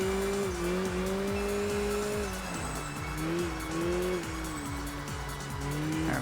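An all-wheel-drive car corners in the racing video game Enthusia, its engine droning steadily and shifting pitch as the tires squeal continuously through the bend.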